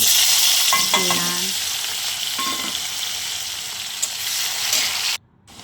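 Bay leaves and green and dried red chillies fry in oil in a wok with a loud, continuous sizzle and a few clinks and scrapes of stirring, ending abruptly near the finish.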